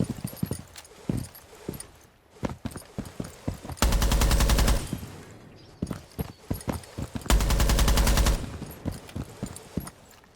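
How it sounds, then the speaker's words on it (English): Gunfire during a video game match replay: scattered sharp single shots alongside two long, loud automatic bursts of about a second each, close and dominant, with light clip-clop sounds between them. "He starts shooting and the gun just runs away from him."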